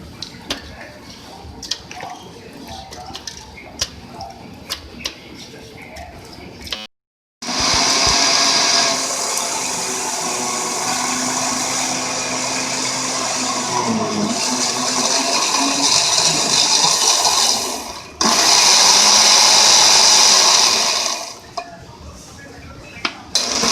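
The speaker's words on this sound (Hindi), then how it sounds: "अब हम ब्लेंडर में तरबूज को डालेंगे।" Light clinks and handling noises, then a blender blending watermelon roars loudly for about ten seconds, pauses briefly, and whirs again in a second shorter burst.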